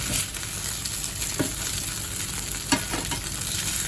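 Pork liver fries in a pan with a steady close-up sizzle and crackle, broken by a few soft stirring scrapes, with no talking.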